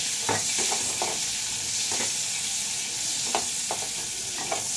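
Pointed gourd (potol) with its seeds removed sizzles in a pan as a vegetarian dish cooks, with a steady frying hiss broken by regular scraping stirs of a spatula, close and without speech.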